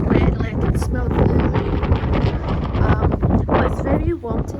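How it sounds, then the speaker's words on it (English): Strong gusty wind outdoors on a wet, gloomy, warm day, buffeting loudly and continuously with a roaring rumble. "It's very windy, and the floor is wet"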